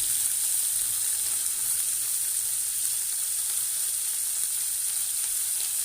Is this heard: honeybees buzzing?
no